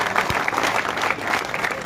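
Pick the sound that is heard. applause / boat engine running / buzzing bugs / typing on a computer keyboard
applause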